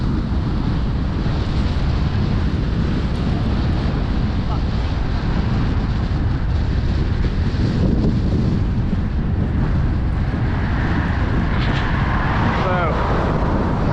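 Strong headwind roaring across the microphone while cycling out of Belfast past the airport, a loud constant buffeting rush that fills the whole stretch.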